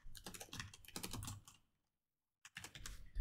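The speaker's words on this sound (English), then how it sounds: "Typing away." Rapid keyboard typing, a dense run of clicks that stops for about a second, then starts again close up.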